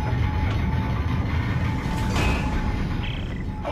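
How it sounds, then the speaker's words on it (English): A tram pulls in within the sci-fi horror game Dead Space 2, a steady rumbling mechanical drone with metallic creaks and a brief rising screech partway through, close and continuous, with no voices. "Oh, hey, it's the tram."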